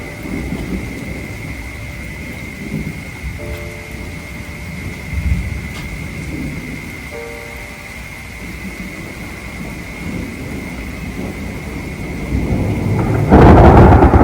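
Thunder rumbling through a lightning storm over a garden, a long low roll with steady rain noise beneath and a louder crack building at the end.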